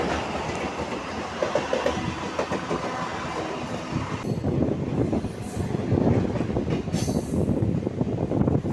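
A passenger train rumbles along the tracks near Dum Dum Junction, Kolkata, racing a parallel Sealdah–Gede local, with continuous rattling, rhythmic clatter, and brief high squeals, growing louder toward the end.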